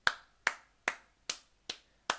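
Six sharp hand claps at a steady, unhurried pace, each a crisp close smack with a short decay, alone with no talking.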